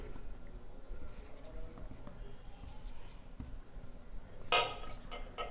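Pen writing an address on a sheet of paper for a formal complaint letter, a faint continuous scratching that runs throughout and ends in a brief louder rustle near the close.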